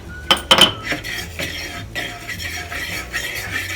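A utensil stirs crepe batter in a bowl, with a few sharp clinks against the side at the start and then softer, irregular scraping and tapping as the mixing goes on.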